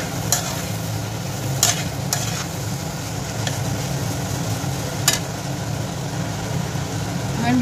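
Chickpeas being stirred with fried spices in a pan for Amritsari chole, a continuous low sizzle and scraping with a few distinct spoon knocks against the pan, close and steady with no talking.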